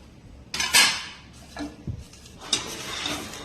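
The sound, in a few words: roasting coriander and mint in a pan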